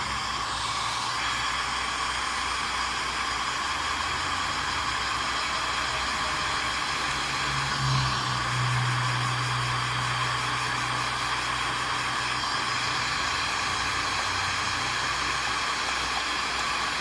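A heat gun blows steadily while warming the back glass of an iPhone X, a constant close airy roar and hiss lasting the whole time, with a slight dip and bump midway.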